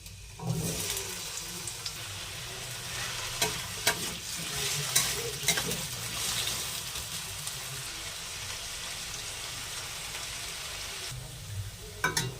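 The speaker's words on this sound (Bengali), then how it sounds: "সর্ষের তেলটা এবার গরম হয়ে গেছে এবার আলুগুলো দিয়ে দেবো হালকা করে ভেজে নেব আলুগুলো" Potato pieces frying in hot mustard oil in a home kitchen, a continuous loud sizzle with repeated scraping stirs and utensil knocks throughout, no talking.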